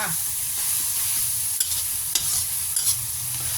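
Mama instant noodles stir-fried in a pan give a steady, close sizzle with scraping and stirring clatters, a few sharper utensil knocks standing out, and no voices.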